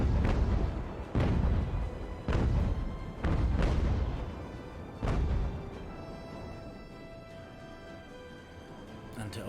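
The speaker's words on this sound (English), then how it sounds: "Let's give the Oakwood another broadside. This bloody Alderney is still firing." A sailing warship in the naval video game Ultimate Admiral: Age of Sail fires a cannon broadside, five deep booming blasts about a second apart, then rumbling decay and quieter battle noise.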